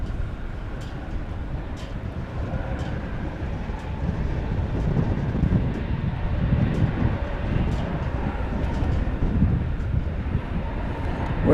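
An Airbus A321neo jet takes off at DFW in gusty wind, a loud, sustained broadband engine roar that swells and holds steady throughout without fading.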